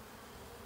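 Honeybees flying out of the hive on a mild late-winter day, a dense, continuous buzzing swarm close by.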